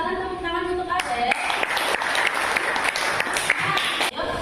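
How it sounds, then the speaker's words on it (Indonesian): Students in an Islamic religious education class applaud a classmate named Ade with a burst of dense clapping lasting about three seconds, close and fairly loud, after a teacher speaks briefly. "silakan tepuk tangan untuk Ade."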